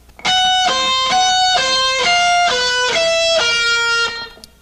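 Distorted electric guitar plays a solo of sustained high notes built on a sharp fifth, about eight bright, ringing notes in a steady phrase. The sound is loud and close, with no talking.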